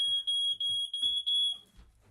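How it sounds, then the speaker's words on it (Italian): An alarm sounds in the video game Herdling: a steady, piercing electronic tone that pulses in short repeated bursts for about a second and a half, then cuts off, leaving faint background noise. "però ha spento l'allarme, va benissimo"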